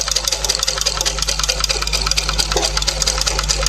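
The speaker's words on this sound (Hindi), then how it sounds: "जहाँ राउंड है वहाँ हम थोड़ा धीरे धीरे मशीन चलाएंगे" A tailoring sewing machine stitching fabric slowly along a curved marking: a close, steady rapid clatter of the needle over a low motor hum.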